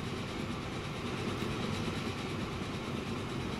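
Trains rolling along rails in the Transport Fever game, a steady, continuous rumble with faint clickety-clack running evenly throughout at moderate level.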